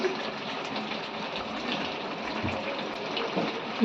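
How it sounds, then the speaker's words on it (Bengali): Water pouring into a pot of browned mutton curry, a steady close gushing splash that runs unbroken and without voices. "দিয়ে দেবো জল।"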